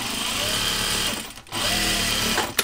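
Topstitching a jeans fly shield on a sewing machine: a loud, close, steady motor hum with rapid needle chatter, one short pause, then sewing resumes.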